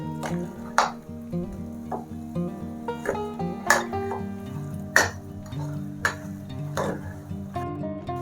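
Potato masala for an aloo sandwich is mashed and stirred in a pan, with rhythmic knocks and scrapes of a spoon against the metal at roughly one-second intervals over soft background music.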